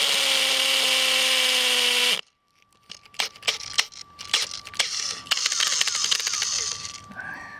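A cordless drill bores into rock with a loud, steady whine for about two seconds before cutting off abruptly. Scattered clicks, taps and gritty scraping follow.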